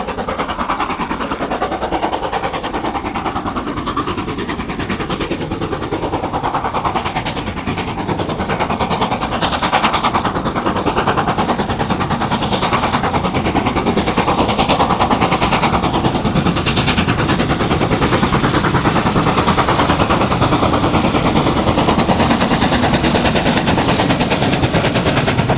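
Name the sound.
steam locomotive 6201 Princess Elizabeth working hard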